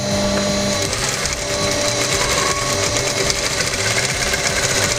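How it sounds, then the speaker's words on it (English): A sewing machine stitches shiny fabric pieces together, a loud, steady whirring drone with a fast mechanical rhythm running the whole time. "So I'm going to turn on the machine, put the 2 facing pieces together in half like that"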